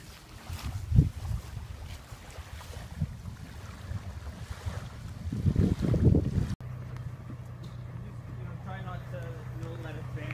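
Outdoor lake water sounds near Kenora, Ontario, with wind buffeting the microphone and thumps as a boat is pushed into the water; a voice speaks briefly.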